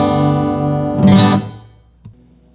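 A guitar tuned to open G rings a full open chord, then a brighter strum and a brief muted pluck near the end, close and clear with no talking.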